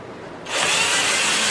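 A power drill with an old bit driving screws during assembly of a Mainstays grill, quiet at first and then starting into a loud, steady whir held close up.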